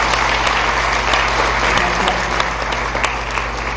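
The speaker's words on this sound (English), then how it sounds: "let's give him a nice round of applause" Audience applause fills a hall at the 110th Richmond Speaking Contest, welcoming Dr. Javon Hunter, Woodville Endowed Chair for Urban Education; dense, steady clapping from many hands holds at an even level throughout.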